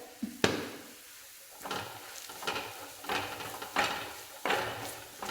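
Masala with turmeric powder sautéed in a pan, quiet background sizzle punctuated by about six distinct scraping strokes of a spoon pushing the mixture around at a steady pace.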